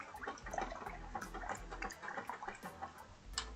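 Paint brush rinsed in a container of water, with soft sloshing and dripping plus faint repeated clicks of the brush tapping the rim, close and quiet, no talking.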